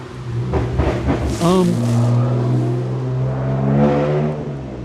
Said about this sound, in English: That was a fake exhaust, by the way.